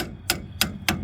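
Hammer striking during work on a 30 ft deckover trailer, three sharp metallic blows at a steady pace close by, with quiet background between hits.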